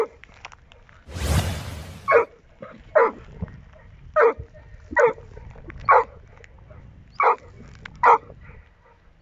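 An Airedale terrier barks repeatedly at a horse, sharp evenly spaced barks close by, after a brief rushing noise at the start.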